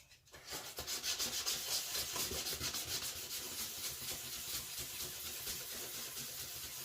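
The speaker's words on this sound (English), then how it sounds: "make sure your sandpaper's wet, and just start" Wet sandpaper rubs back and forth over the clear plastic windows of an RC truck body in quick, rhythmic strokes, a close, steady scratching hiss with no talking.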